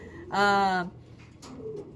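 A single soft, breathy pigeon coo, close and clear, followed by faint rustling and a quieter murmur.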